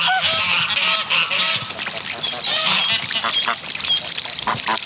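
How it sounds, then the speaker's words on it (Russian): Many farm geese honking loudly and continuously in a busy, overlapping chorus, close by, with occasional higher calls mixed in. "Чуть солнце показалось из-за туч, гуси устремились к пруду."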